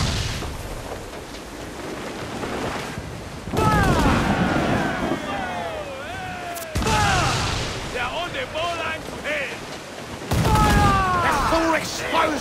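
Ship cannons fire in Assassin's Creed 4 Black Flag as three heavy booming volleys, each followed by a lingering rumble, while crew members shout orders over the battle.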